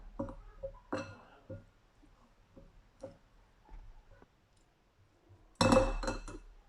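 A spoon mixing ingredients for a spicy Biskra-style doubara of fava beans and chickpeas in a bowl: scattered light clinks and taps against the bowl, then a louder, denser burst of clattering near the end.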